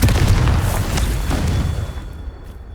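Confringo fire spell blast in Hogwarts Legacy, a loud deep booming explosion with a crackling roar that fades over a couple of seconds.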